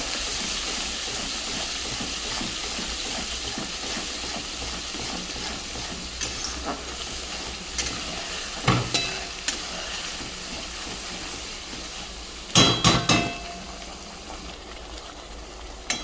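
A spice paste for milk chicken korma fries with a steady hiss and sizzle in a pan, stirred with occasional clinks and scrapes of a spoon near the end, close by and with no talking.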